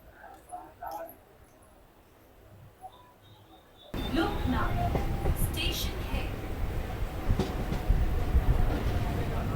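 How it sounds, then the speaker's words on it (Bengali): A Howrah–Tarakeswar local train rumbles into Loknath station with a loud, continuous rattle and clatter that starts suddenly after a few quiet seconds of faint voices. "আমাদের ট্রেনটা এখন এই লোকনাথ স্টেশনে ঢুকলো"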